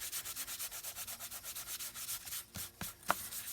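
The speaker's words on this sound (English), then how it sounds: "we got a little glue here, so let's just rub it" Glued paper is rubbed down onto a junk journal page in quick rhythmic strokes, a soft close scratchy swishing that turns slower and more irregular near the end, ending in a light tap.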